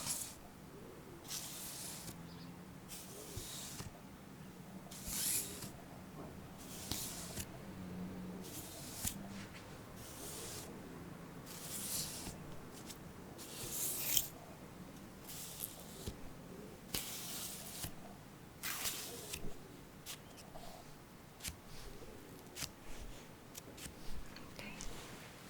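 Short hissing bursts of spray, likely an aromatic mist with Western red cedar, repeat irregularly in a quiet room, interspersed with soft whispered speech.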